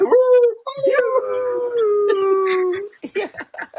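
A dog howls in long, wavering, drawn-out tones for nearly three seconds, loud and close, then breaks into shorter yips and whimpers; no one speaks over it.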